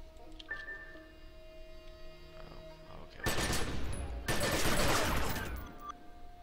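Assault rifle fire in the online game The Secret World: two loud bursts of rapid gunfire, the second longer, after a quieter stretch of game ambience and tones.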